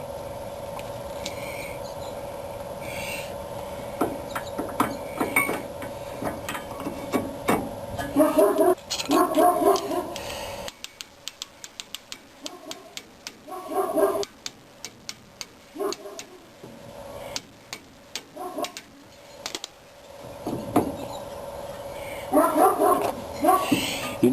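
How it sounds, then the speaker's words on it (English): Neighborhood dogs bark in scattered bursts from a distance, sharp intermittent yips and woofs over a steady hum and occasional clanks, with long quiet gaps between volleys. "You notice everybody's got dogs in my neighborhood"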